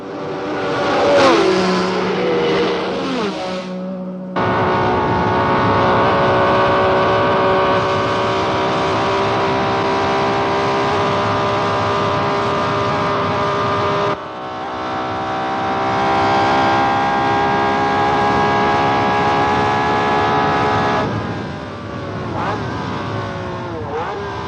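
Sarti's 1966 Grand Prix race car and the Brabham ahead of it scream past at full speed, a loud, sustained high-pitched engine wail that cuts out briefly and then returns with rising and falling revs.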